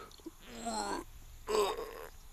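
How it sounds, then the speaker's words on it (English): A person yawning, two breathy, drawn-out yawns about a second each, close and fairly quiet with a short pause between them. "a big yawn there"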